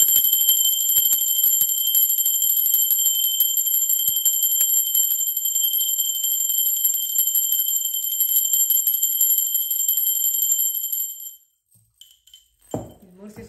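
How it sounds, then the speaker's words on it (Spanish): A steady, high ringing tone holds for about eleven seconds, then cuts off, followed by a quiet pause and a few soft knocks. "Ahora sí, va campana."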